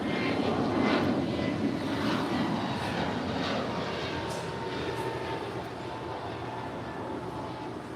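An American Airlines A321neo jet departs LAX for Philadelphia under a thick marine layer, its engines a steady broad roar that slowly fades as it climbs away.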